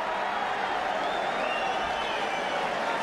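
A boxing arena crowd at a 1988 Chavez vs Ramirez title fight roars in a steady, dense wash of cheering and applause that holds at a constant loud level for the whole stretch.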